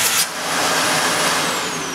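A Shark NV350 upright vacuum cleaner roars steadily as suction pulls through its wide hose, with a loud broadband rushing hiss and a brief change in tone as a hand covers the hose end.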